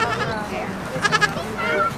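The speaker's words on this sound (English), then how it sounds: "Oh, it looks like they have goats over here." Goats bleat at a craft show during a fall Airstream rally in Brandon, Vermont, a quick wavering bleat or two heard close over crowd chatter and nearby voices.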